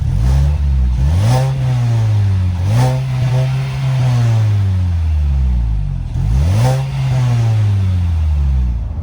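Three rising-and-falling revs from a 2021 Mazda 3 hatchback's 2.5-liter four-cylinder, each swelling up from a steady idle and dropping back, loud and close.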